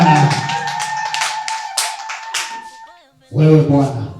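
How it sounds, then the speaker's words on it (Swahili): A church congregation claps hands in quick, steady rhythm during a healing prayer, the claps mixed under a loud sustained voice and ending with a fuller burst near the close. "Piga makofi mengi kwa Bwana."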